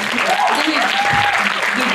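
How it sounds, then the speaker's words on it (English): A crowd at a school farewell ceremony claps loudly and steadily throughout, a dense wash of applause with a few voices and cheers mixed in. "you guys deserve a huge round of applause"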